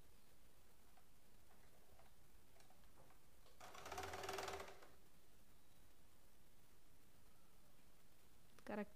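A sewing machine stitches a child's frock in one brief, fairly quiet burst of rapid mechanical running near the middle, with near silence on either side.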